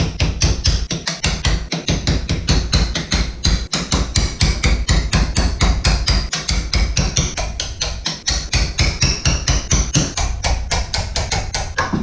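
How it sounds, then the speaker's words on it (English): A hammer drives a stone chisel through stone in a steady rapid train of sharp, loud metallic strikes, close up and continuous throughout with no talking. "we just need to take a chisel and hammer these through and pull them out on the other side"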